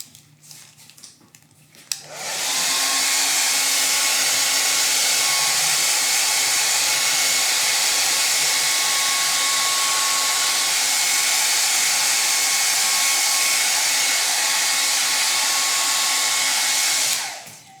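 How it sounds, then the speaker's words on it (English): A hair dryer blows steadily on freshly stenciled paint on a Christmas nativity countdown piece, switching on after a couple of quiet seconds and running loud and constant before cutting off at the end. "I'm gonna dry that with the dryer"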